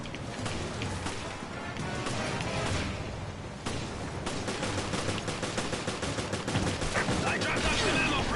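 Gunfire in Resident Evil Revelations rattles off in rapid, sharp shots, close and fairly quiet overall, with brief pauses between bursts and a busy background of game noise.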